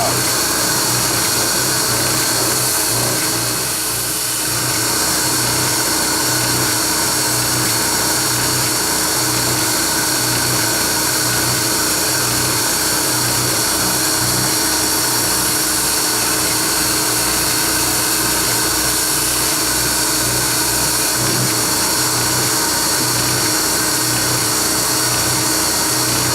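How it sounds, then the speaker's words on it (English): A power sander works over soft butternut wood on a canoe hull with a continuous, even whirring drone and faint shifts in tone as the sander moves across the surface. "I just remembered why I don't use butternut. It's just too soft. It's hard to sand, especially on uneven surfaces"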